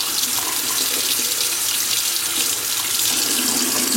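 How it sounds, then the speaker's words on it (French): Cold tap water runs steadily into a sink as hard-boiled eggs are rinsed under it, a loud, close, continuous splashing hiss with no talking. "il faut stopper la cuisson des œufs en les sortant de l'eau chaude et en les passant sous l'eau froide"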